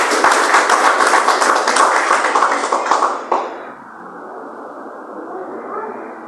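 A church congregation claps for Jesus, a loud dense burst of clapping that stops abruptly after about three seconds, leaving quiet room murmur behind.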